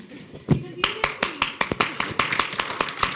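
Audience at a Finding Fanny promotional event clapping in scattered, uneven claps that build into a quick run of sharp hand claps, with voices talking over them.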